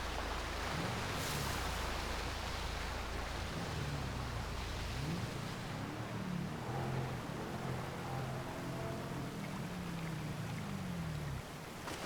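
A jeep in GTA 5 rolls off a waterfall and plunges into the river, with a steady wash of rushing water and low engine rumble throughout and no talking.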